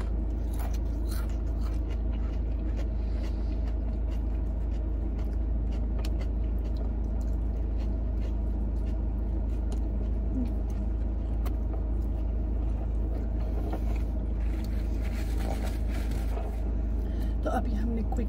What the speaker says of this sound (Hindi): एसी और गाड़ी की आवाज इसमें आ रही है